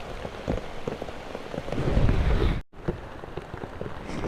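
Steady rain patters densely on a surface, swelling to a heavier wash before abruptly cutting off, then resuming as a lighter, thinner patter as it eases.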